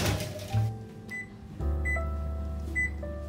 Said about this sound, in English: let's pop them into the oven for 12 minutes